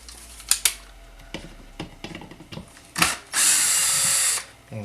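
A power drill backs out the screws on the blower motor cap of a 2005 Cadillac Deville, with short clicks and taps, brief bursts, then one sustained whine lasting about a second, close by.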